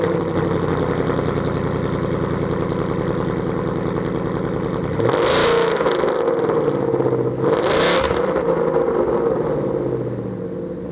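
2015-2017 Mustang GT with a Borla Atak cat-back exhaust, idling with a steady burbling rumble, then two sharp loud revs that rise and fall back to idle, close by with no talking.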